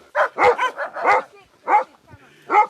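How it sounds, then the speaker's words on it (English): A Canaanite dog barks in quick, loud yelping bursts close by, several in a row followed by a couple more after short pauses. "So this is the sound of sheep and dogs"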